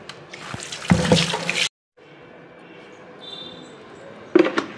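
Water splashes and runs in a sink while rice flour and turmeric are rubbed into something being washed, with a brief quiet gap midway and a louder burst of splashing near the end.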